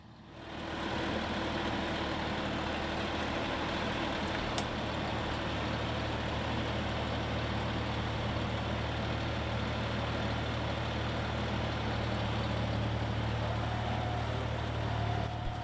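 John Deere 5075e tractor pulling an Oliver 3-16 plow through sod for a sweet corn patch, its diesel engine droning at a steady, loud, even pitch throughout.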